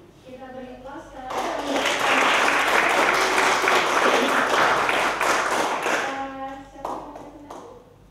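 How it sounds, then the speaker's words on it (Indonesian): An audience applauds at a women's and children's rights presentation: a dense, steady burst of clapping swells in, holds for several seconds, then fades, with speech before and after. "Kita beri aplaus ke"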